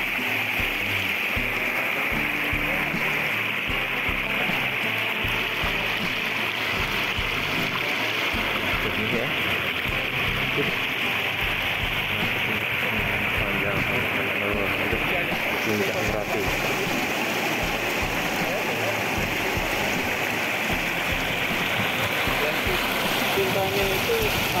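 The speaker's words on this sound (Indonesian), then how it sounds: "Nah, ini sungainya. Tapi jernih." Clear mountain river at the upper Kalikuning stream in Plunyon, Sleman, a constant full rushing and gurgling of water over rocks, close and steady throughout with no pauses.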